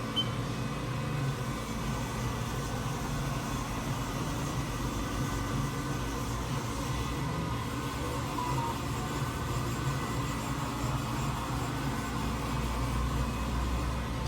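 A 2013 Haas VF-4 CNC mill spindle turns at 1,000 RPM during warm-up, giving a steady, fairly quiet mechanical hum with an even whir and no talking.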